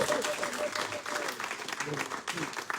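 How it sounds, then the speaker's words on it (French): Congregation applauding during a church service, a dense wash of clapping that carries on steadily throughout at moderate volume. "J'aimerais que tu acclames, c'est Jésus, car c'est lui qui donne."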